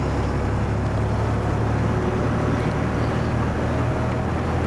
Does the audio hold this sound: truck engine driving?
yes